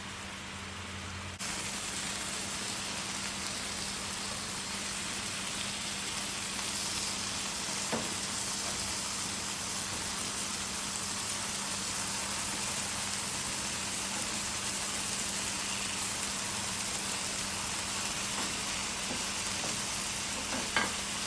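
Sausage patties sizzling and frying in a pan, a steady dense hiss that runs on without a break, with a few faint clicks now and then.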